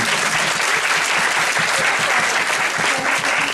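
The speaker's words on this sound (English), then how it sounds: "Can you please give the panel a round of applause, please?" Sustained, dense applause from a large audience at a film screening Q&A, steady and loud throughout with no break.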